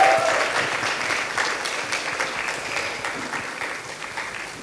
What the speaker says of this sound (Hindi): अन्ना के लिए एक बार जोरदार तालियां।